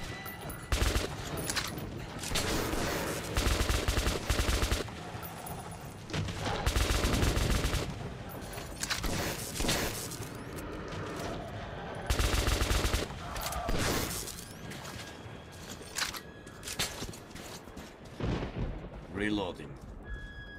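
Dense bursts of automatic gunfire and explosions from the video game Metro rattle on and off for twenty seconds, loud volleys broken by brief lulls, with voices talking underneath.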